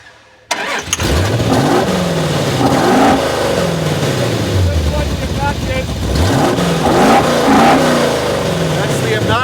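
Jeep Quicksand Concept, a Wrangler-based 4WD hot rod, fires up and revs hard several times, its engine loud and close with swooping rises and falls, set to its most aggressive exhaust mode.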